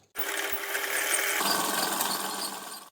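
Sewing machine stitching the rounded corners of a fabric face mask, one continuous close run of nearly three seconds at a steady pace, no talking.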